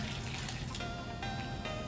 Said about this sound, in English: And we're gonna just keep adding water until we get to our target level.